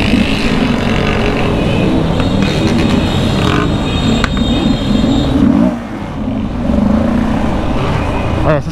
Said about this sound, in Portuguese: Queimada de embreagem, que zoa embreagem